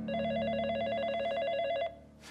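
A telephone rings with a steady warbling electronic tone lasting almost two seconds, loud and close, then stops abruptly; no speech.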